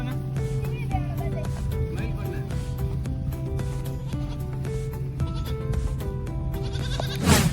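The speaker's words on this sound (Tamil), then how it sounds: "ஆடு நம்மளே சுற்றி ரொம்ப நேரமாக வந்துட்டு இருக்கு." A goat bleats repeatedly in an outdoor setting, its calls loud and close and mixed with people talking.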